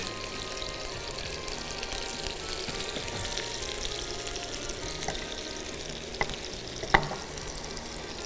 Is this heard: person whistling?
no